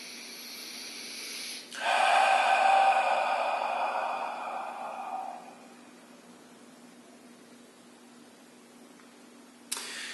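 One slow, deep breath is drawn in through the nose and released during a self-applied sternocleidomastoid trigger point massage, close and airy, a long inhale followed by a fading exhale over a quiet room hum.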